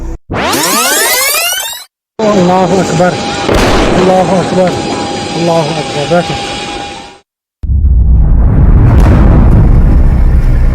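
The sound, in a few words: gunfire, shots fired in a tourist video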